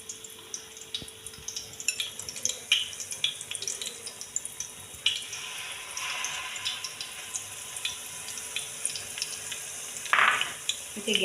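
Banana fritters (pazham pori) fry in oil over a low flame, giving a soft, steady sizzle with scattered crackles and pops and a few louder bubbling bursts, close by and without speech.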